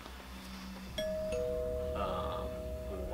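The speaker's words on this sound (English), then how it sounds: "either your doorbell glitched, I'm hearing things, or somebody's at your house" A doorbell chimes with clear sustained electronic tones, a first ring followed by a second, over a quiet room hum.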